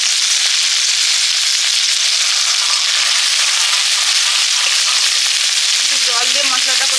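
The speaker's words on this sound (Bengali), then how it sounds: "একটু জল দিয়ে মশলাটা কষে নেব।" Spice paste for crab curry, with cumin paste and chilli powder, fries hard in hot oil in a pan, a loud, steady, close sizzle that runs the whole time with a few sharp spatters near the end.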